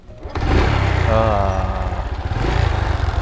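An old Revo motorcycle engine starts and runs close by, idling with a rough, uneven putter that rises and settles.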